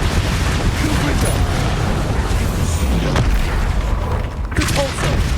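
A Confringo fire spell explodes in the video game Hogwarts Legacy, a dense booming rumble with a couple of sharper bursts partway through, loud and continuous, with some game noise around it.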